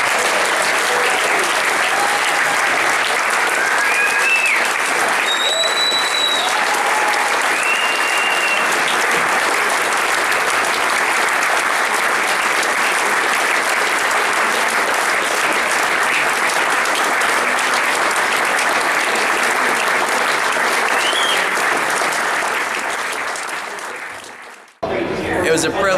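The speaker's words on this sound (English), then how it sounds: "I think we should give them a rousing final round of applause" An audience at the 2015 Squash Ontario Hall of Fame ceremony gives a long, sustained round of applause for the inductees, steady and full for nearly the whole stretch before cutting off abruptly near the end.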